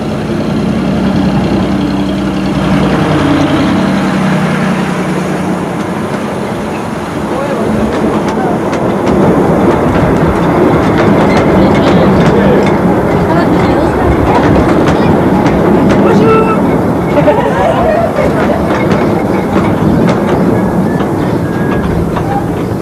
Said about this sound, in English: the miniature train is heard returning from Scarborough Mills